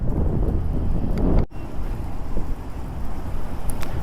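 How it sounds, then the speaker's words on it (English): Wind buffets the microphone while a 2024 Kawasaki Ninja 500 KRT motorcycle is ridden outdoors on a very windy day: heavy low rumbling gusts with a sharp drop-out partway, then continued blustery roar. "it's really windy out"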